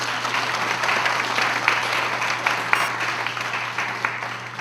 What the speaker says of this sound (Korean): 박영길 목사 박수로